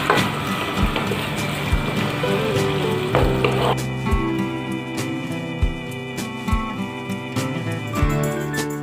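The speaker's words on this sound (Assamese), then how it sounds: "মই এইখিনি যিখিনি পেষ্ট বনাই ৰাখিছিলোঁ যে কাজু আফু আৰু পিঁয়াজৰ সেইখিনি মই ইয়াতে দি এতিয়া আকৌ ভাজিম" A paste of cashew, poppy seed and onion fries in a pan for a raw banana kofta curry. A close sizzle and crackle is broken by repeated clinks and scrapes of a spoon stirring against the pan.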